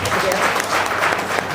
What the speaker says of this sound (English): So a big round of applause for the parents first.